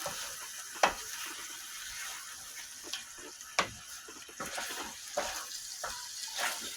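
Ketchup-based sauce being stirred in a pan, with scattered soft scrapes and a few sharp utensil knocks over a faint steady hiss of gentle sizzling, close and fairly quiet, with no talking.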